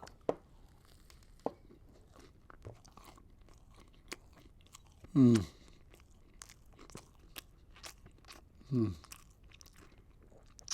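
Someone bites into a crispy KFC Zinger burger with superstar sauce, giving two distinct loud crunches spaced a few seconds apart over quiet mouth clicks and soft chewing, no talk.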